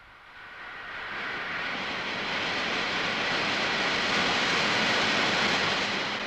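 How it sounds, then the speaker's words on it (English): A compressed air jet blowing from a nozzle in a supersonic flow demonstration, a steady broadband hiss that swells in over the first second and then holds loud and continuous. "When the compressed air jet is turned on,"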